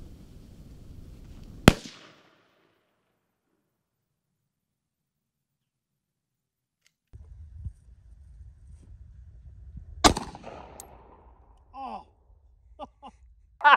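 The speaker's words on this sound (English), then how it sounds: "I'm going to show you my first shot ever through this thing with single hearing protection on" A gunshot through a Talon 905 muzzle device: two loud, sharp, separate cracks several seconds apart, each with a short ringing tail, and faint breathy vocal sounds after the second.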